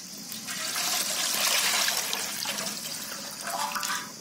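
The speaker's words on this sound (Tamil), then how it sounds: "பாலை ஊத்தி கொதிக்க விடலாம்." Fresh cow's milk is poured into a pan in a village kitchen, a gushing liquid stream that swells, then thins to a trickle and splashes, near and alone without talk.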